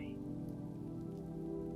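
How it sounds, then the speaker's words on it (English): Rain falls steadily against a window at night, a soft, even patter with a low continuous hum beneath it, faint and unbroken. "Rain occasionally tapped at the window, as if offering a nighttime lullaby."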